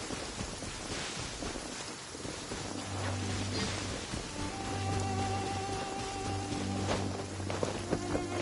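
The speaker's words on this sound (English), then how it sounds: "Rain." Steady rain in Genshin Impact, a broad continuous patter that swells slightly midway, layered under soft sustained musical tones from the game.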